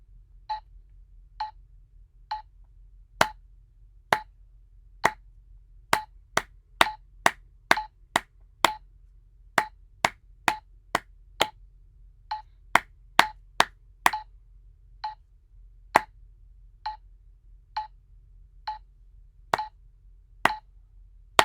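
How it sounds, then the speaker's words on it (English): Hands clapping a simple rhythm in 3/4 meter, sharp single claps at uneven spacing, some quick runs and some longer gaps, heard alone with no talking. "So we clap wherever there is a note."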